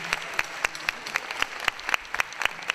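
An audience at an award ceremony claps, though the sound comes through as sparse, evenly spaced claps, faint and a little distant, rather than a full burst of applause.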